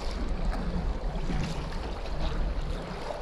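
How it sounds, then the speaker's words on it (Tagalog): Wind and choppy waves on Laguna Lake in the Batuhan area on a rough, windy day. A constant low rumble of gusts and water washes along with no one talking. "Sa ngayon, maalon, mahangin."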